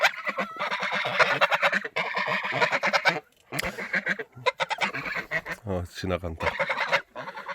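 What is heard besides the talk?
geese honking on a farm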